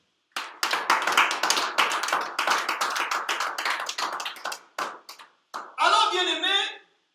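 Church congregation bursts into applause to acclaim the word of God, a dense run of clapping lasting several seconds before ending with a brief burst of cheering voices.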